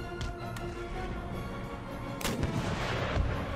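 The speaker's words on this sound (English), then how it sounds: "One gun firing canister shot." Artillery firing canister shot in a Napoleonic-era battle in Empire: Total War, sharp cannon booms over a constant rumble of battlefield noise, one heavy blast standing out partway through.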